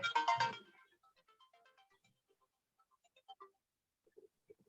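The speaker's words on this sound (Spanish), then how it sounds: "Esperen que pongo mudo el teléfono" A mobile phone ringtone sounds loudly in a short melodic burst, then fades into faint, sparse tones and clicks as the phone is muted.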